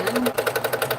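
A sewing machine quilting a catch-stitch swirl runs with a fast, even mechanical chatter of rapid needle strokes, loud and close, with no pauses.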